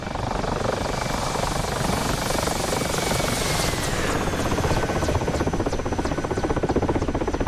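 A Russian attack helicopter's rotors in the combat flight game DCS drone and thump continuously and loudly, a steady throbbing whir that slowly shifts in pitch as the damaged rotors struggle.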